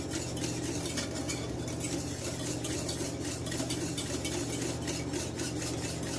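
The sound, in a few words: stirring thick béchamel sauce in a pot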